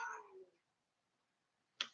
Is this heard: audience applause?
no